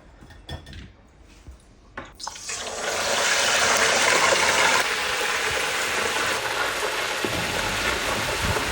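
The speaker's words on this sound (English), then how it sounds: "So we're gonna go ahead and fry these babies" Garlic-brined chicken wings hit hot oil in a fryer: after a few quiet seconds with small knocks, a loud, steady, broadband sizzle and bubbling rises and holds to the end.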